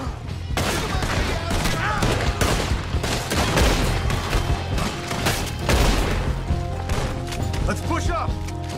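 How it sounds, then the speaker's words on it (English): A shootout at Fort Wallace in Red Dead Redemption: dense overlapping gunshots crack in a continuous fusillade with booms and impacts, while voices shout over the gunfire. "We'll have to shoot our way out."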